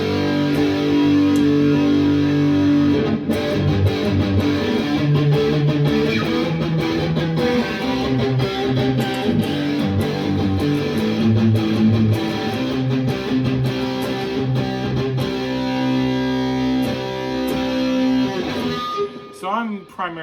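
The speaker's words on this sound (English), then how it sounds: "Now I'm gonna switch over to the dirty channel, put it on the bridge pickup, roll back all the volume all the way up" ESP LTD EC1000 electric guitar played through a dirty, distorted amp channel on the bridge pickup with volume and treble fully up, giving a loud, continuous stream of chugging riffs and sustained chords that stop abruptly near the end.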